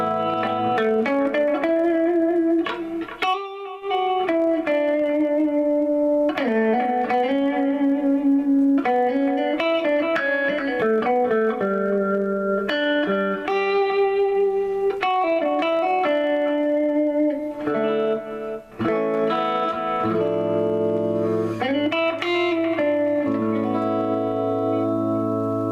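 Sustained electric guitar chords and melodic notes ring out loudly, washed in echoing delay and reverb that blur each phrase into the next.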